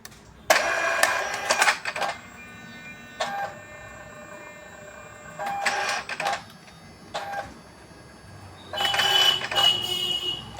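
An ID card printer prints a sample card in several separate bursts of mechanical whirring and clicking, each lasting about a second or two, with quiet gaps between them.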